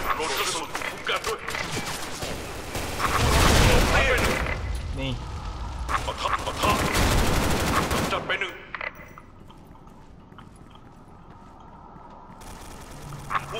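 Rapid automatic gunfire and explosive bursts from the online shooter Special Force 2 fill the first eight seconds loudly, then give way to quieter, sparser game noise.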